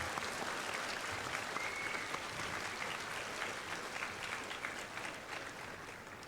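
Audience applause fills the room, dense and steady for the whole stretch, loud and close with no voices breaking through.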